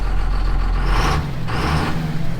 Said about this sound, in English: What a tractor that is.